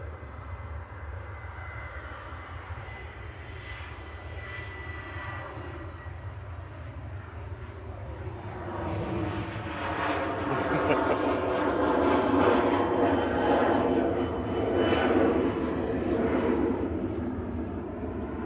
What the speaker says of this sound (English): Departing next is Ryanair to Valencia.